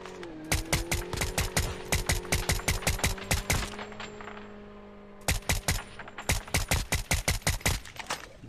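Rapid bursts of SKS rifle fire in the Call of Duty Mobile battle royale, loud, close cracks in quick rhythmic volleys with a short pause before another long string of shots.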